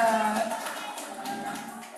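A church congregation claps for Jesus during a prayer and fasting worship service, a dense wash of applause that carries on steadily for the whole stretch, mixed with music and voices.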